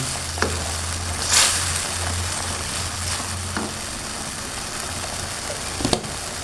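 Potatoes sizzling in a hot frying pan with a steady crackle of oil, broken by a few scraping stirs of a utensil against the pan.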